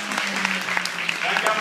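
Audience applause at a presentation by a director, a steady wash of clapping throughout with a faint voice running beneath it.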